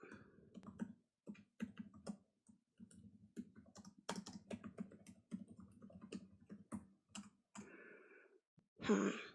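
Keys on a computer keyboard click in quick, irregular bursts with short pauses between them, close and quiet, ending with a brief breathy sound.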